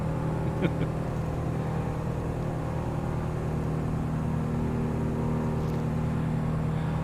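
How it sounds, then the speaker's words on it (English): A steady, droning piston engine hum of a Piper Arrow in a flight simulator runs unbroken throughout, low and even in pitch, with only slight shifts in tone. "engine felt nicer there. Just hear it go"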